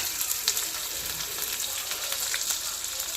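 Onion pieces fry in hot oil in a home kitchen, a soft, steady crackling sizzle with scattered sharp pops throughout, fairly quiet and without talk.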